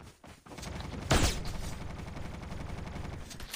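A burst of rapid gunfire in Call of Duty Mobile battle royale, with a sharp loud blast near the start, followed by sustained crackling shots and rumbling explosions, with no talking.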